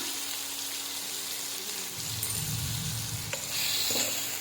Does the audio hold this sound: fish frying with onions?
yes